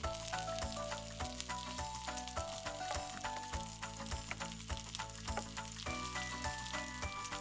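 A cod mixture with garlic, onion powder and fish stock cooks in a pan, giving a soft, steady sizzle with faint clinks, heard alone and fairly quiet.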